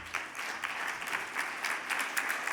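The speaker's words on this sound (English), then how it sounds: "Let's give a round of applause to the Capitol Hilton staff." Applause for hotel staff at a plenary session of a winter meeting, a crowd clapping in a steady, moderately distant patter with small surges, continuing throughout without speech.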